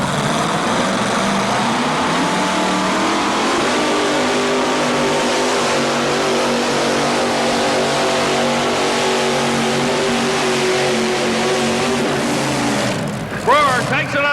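A pulling vehicle at a 1987 truck and tractor pull roars with a loud, sustained engine drone that holds steady for most of the run, then drops off near the end, with announcer commentary over it.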